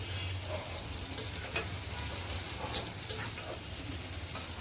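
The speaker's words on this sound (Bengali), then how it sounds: "মাঝখানে মাছটা একটু নেড়েচেড়ে দিয়ে আবার ঢাকনা দিয়ে রাখবো" Fish fries steadily in a pan, a continuous close sizzle with a low hum beneath it, broken by a few faint scrapes as the pieces are stirred.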